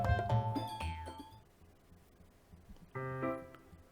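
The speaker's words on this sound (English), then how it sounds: "I hear my doorbell ring" Two-tone chime of a home doorbell in Doki Doki Literature Club, a loud ding-dong at the start that fades out, then a second ring after a quiet pause.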